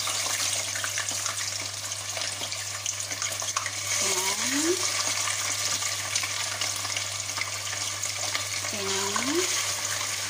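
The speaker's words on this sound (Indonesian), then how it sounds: "Gorengnya, cara gorengnya oke, kulitnya dari bawah" Chicken sizzles skin side down in a hot pan, a steady quiet frying hiss that runs throughout, with a few brief voice-like sounds in the background.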